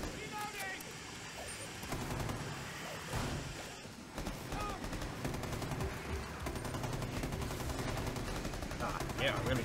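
Light machine gun fire in Rainbow Six Extraction, dense sustained bursts of rapid shots with a brief lull near the middle, loud and close, mixed with game effects and a voice speaking over it.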